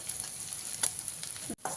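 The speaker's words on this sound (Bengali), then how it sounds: "বাদামটা যেহেতু ভাজা আছে তাই খুব বেশি সময় ভাজতে লাগবে না" Roasted peanuts and onion fry in a pan with a soft, steady sizzle and a few stirring scrapes, close by and fairly quiet with no one talking.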